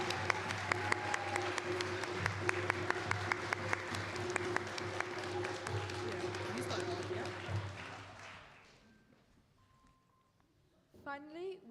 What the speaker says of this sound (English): So can we have one final round of applause for...